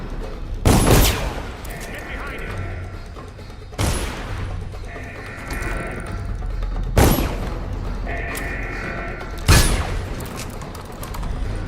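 Four loud, sharp gunshots spaced a few seconds apart in a video game shootout, each a heavy blast with a ringing tail over a low ambient rumble.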